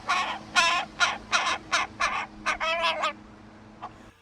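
A hungry crow caws close by, about ten harsh calls in a steady run, then goes quiet except for one faint final call.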